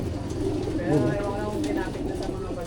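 Soft homing pigeon cooing murmurs close by under a voice during club loading for a training toss in Plaridel, with a low steady background hum.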